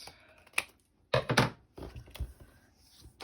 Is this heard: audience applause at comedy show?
no